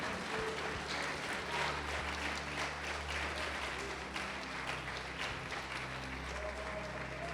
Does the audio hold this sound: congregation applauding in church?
yes